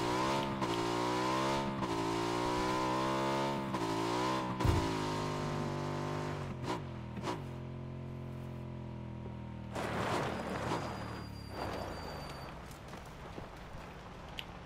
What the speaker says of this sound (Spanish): Muévete, puta moto de mierda, muévete.